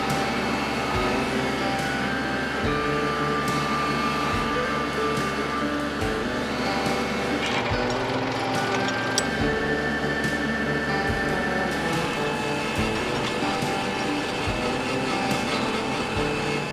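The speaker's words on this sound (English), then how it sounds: "This is a 3-speed transmission. I'll be plowing in low gear," A hydrostatic compact tractor in low gear at wide open throttle pulls a two-bottom breaking plow through a field, its engine droning steadily and close with a recurring rhythmic pulse over the whole stretch, no talk.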